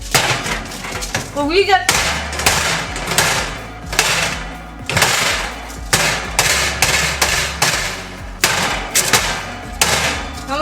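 Repeated loud metallic bangs of a cookie baking tray struck against an oven tray, in irregular bursts of sharp clattering impacts with brief pauses between, a voice speaking briefly.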